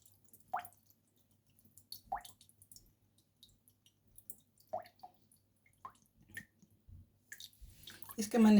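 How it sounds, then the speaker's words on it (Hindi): Coconut water drips out through a hole bored in a coconut, a few sparse soft drips and plops spaced seconds apart, quiet and close, with a louder handling rustle at the end. "इसमें जो पानी है, नारियल वाटर है,"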